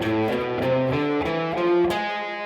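A distorted electric guitar plays a harmonic minor scale as a run of single notes going up, steady and fairly loud, with no voices.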